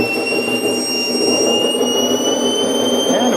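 A Picaro RC jet turbine engine spooling up, a close, steady whine with high piercing tones gliding slowly downward over a broad rushing roar.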